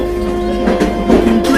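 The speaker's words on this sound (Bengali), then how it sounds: "ট্রেন এখন ওই জঙ্গলটার মধ্য দিয়ে যাচ্ছে দাদা।" A train rumbles loudly through a jungle at night, heard from inside the carriage as a continuous heavy roll with clattering wheels, a tonal drone, and voices over it.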